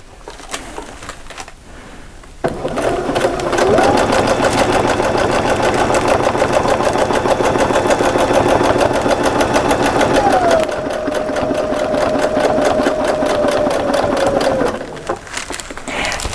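Sewing machine stitching free-motion quilted feathers along a ruler template, a fast rapid needle chatter running loud and continuous with a brief pitch shift midway, starting after a short pause and ending near the close.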